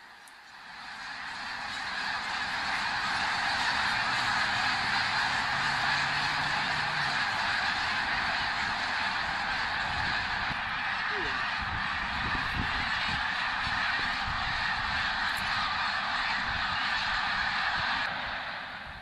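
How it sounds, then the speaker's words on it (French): A large flock of snow geese honks in Quebec, a dense, continuous chorus of overlapping calls that swells in and holds steady throughout, with no voices. "les oies ont toutes décollé"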